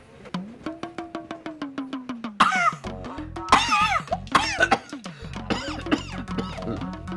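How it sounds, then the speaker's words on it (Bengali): A man coughs repeatedly in a fast run of short harsh bursts, then other voices talk over a continuing cough, close and clear indoors. "স্যার বারবার কাশতেছেন পানি নিয়ে আসি"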